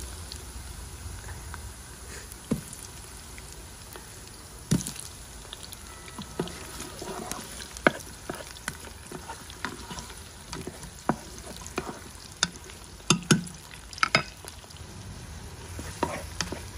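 Onions sizzle softly in a pan after garlic for chicken kabsa, with gentle continuous frying and scattered sharp clicks of stirring throughout, quiet and close.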